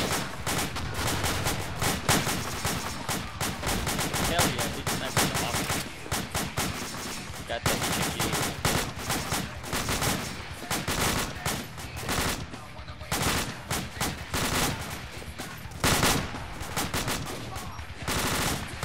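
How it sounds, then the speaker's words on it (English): Dense, continuous gunfire in the military shooter United Operations during the Battle of Wanat, with overlapping rifle and machine-gun bursts close and loud throughout, while players shout over the shooting. "Enemy fire! Contact"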